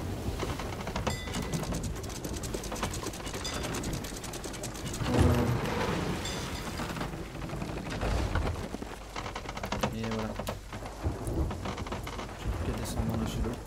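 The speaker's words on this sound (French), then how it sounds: "ça veut dire qu'il y a une tempête" A rainstorm at sea in the pirate video game Sea of Thieves: a steady, dense hiss of rain with mechanical creaks and ratcheting clicks, swelling into a louder rumbling surge midway before settling back to a constant roar.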